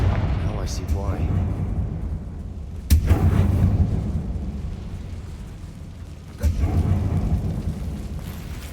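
Two sudden blasts from the Confringo fire spell in Hogwarts Legacy, set off inside a closed mine that looks like a tomb, each a sharp crack followed by a rumbling tail over low ambient game sound.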